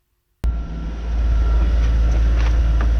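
A sailboat's inboard engine starts abruptly after a moment of silence, then settles into a loud, steady low chugging rumble that swells slightly and holds evenly, with no voices.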